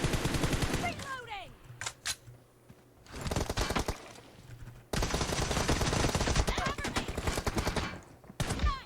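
Video game gunfire crackles in rapid automatic bursts, loud and dense, broken by short gaps, with a player talking over parts of it.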